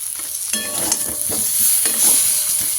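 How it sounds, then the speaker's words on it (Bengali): Potatoes for a cauliflower curry fry loudly in a pan, with a constant sizzle and a spoon scraping and stirring them through it. "ওই কারণে আলুটা আর একবার ফ্রাই করলাম, যাতে ব্যালেন্স হয়ে যায়"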